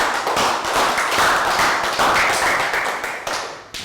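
Dense clapping from a small group, a quick burst of applause that fades out near the end.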